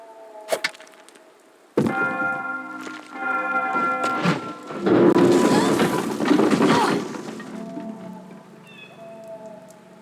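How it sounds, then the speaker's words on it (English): Bells drop and crash in the Tomb Raider: Chronicles video game, Gallows Tree level: a sharp shot, then ringing metallic bell tones clanging several times, swelling into a loud crashing rumble that fades into lingering chimes. "by using the slingshot, we dropped the bells and we created a hole."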